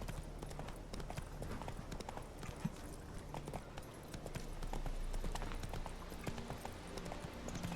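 Roach the horse trots in The Witcher 3, a steady clip-clop of hooves running throughout amid outdoor game ambience, with a brief faint whinny-like sound.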